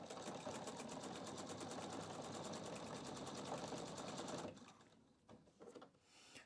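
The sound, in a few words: Pfaff QE 720 sewing machine stitching ribbon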